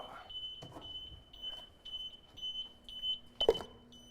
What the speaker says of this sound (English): There goes the CO beeper